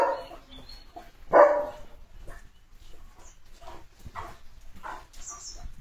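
A German Shepherd barks once loudly and close, then gives a few softer, scattered barks and whimpers, with a light rain-like background hiss.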